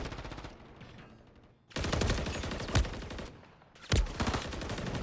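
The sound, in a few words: gunshots in a video game match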